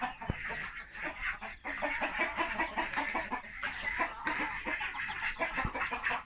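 Young farm-raised native chickens from an incubator brood cluck and chatter continuously inside a large coop, many birds close together with a few sharp knocks.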